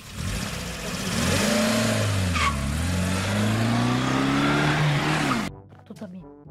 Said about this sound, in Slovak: Auto prichádzalo alebo niečo?